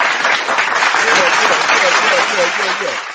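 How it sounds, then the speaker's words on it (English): A crowd at a live show keeps clapping in a round of applause, loud and dense throughout, while a voice and some cheering come through over the clapping near the end. "Good round of applause."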